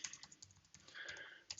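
A meeting name is typed on a computer keyboard, a quiet, close run of quick key clicks with a brief pause partway and a couple of firmer taps at the end.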